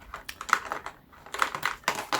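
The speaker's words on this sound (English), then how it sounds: "Rattly box." A rattly box being handled up close, giving a quick run of light, clicky taps and rattles with a brief pause in the middle.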